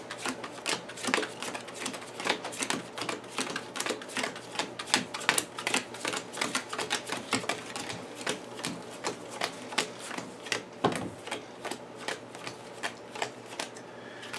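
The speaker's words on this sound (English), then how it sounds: "we shuffle our investigator decks and draw cards" Investigator card decks for an Arkham-style card game are riffled and shuffled by hand, giving a quiet, steady run of rapid crisp flutters and snaps at close range with no voices.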